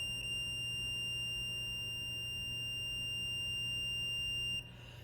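A multimeter continuity-test tone sounds on table saw wiring, a steady high-pitched beep held for several seconds over a low hum before it cuts off.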